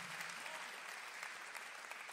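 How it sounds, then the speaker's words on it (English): A church audience claps in a steady, even patter of many hands, faint and slightly distant, with no talk over it. "Come on, clap if you're excited."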